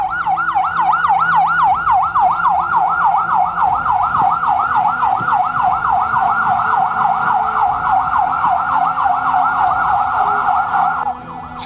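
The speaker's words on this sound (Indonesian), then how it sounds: "Sejumlah mobil ambulans hilir mudik membawa korban keracunan ke posko darurat" Loud ambulance siren with a fast, continuous rising and falling wail, near and steady throughout, as ambulances shuttle poisoning victims to an emergency post at a school in West Bandung, Indonesia.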